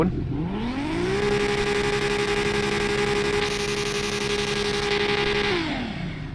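A Toyota Supra A80 sports car engine revs up, holds a steady high roar for several seconds, then drops back down, close and loud.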